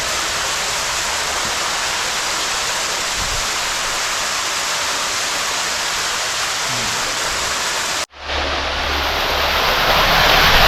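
A rushing waterfall roars as a loud, steady wash of broadband noise, cutting off abruptly near the end before a softer, rising rush returns.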